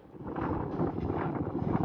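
Strong desert wind at Jebel Fihrayn, near Riyadh in Saudi Arabia, buffeting the microphone in a continuous rough roar for a couple of seconds with no voices.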